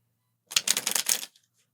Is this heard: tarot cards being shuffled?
yes